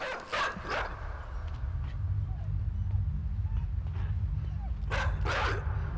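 In the video game Inside, a dog gives several sharp barks and yips in short bursts near the start and again near the end. A low rumbling background runs underneath throughout.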